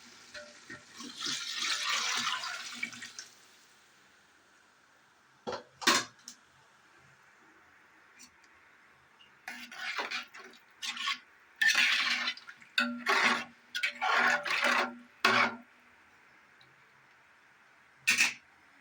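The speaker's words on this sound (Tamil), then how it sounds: "நாலு கிளாஸ் அரிசிக்கு எட்டு கிளாஸ் தண்ணி ஊற்றணும்" Water pours into a cooking pot for chicken biryani, eight glasses for four of rice, in a steady splashing stream at the start, followed by scattered metallic clanks and knocks of pots and utensils.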